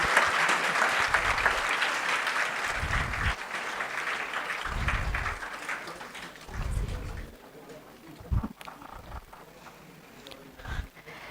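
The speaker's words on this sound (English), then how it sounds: "please let's welcome him with heartfelt round of applause" Audience applause at an international STEAM conference welcoming a professor, loud at first and fading after a few seconds, while a voice speaks at intervals over it and then carries on alone.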